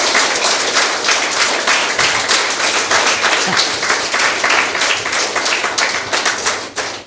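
Children at a Women's Day event clap for two girls in a dense, continuous burst of close, loud applause that lasts several seconds. A voice briefly speaks over it.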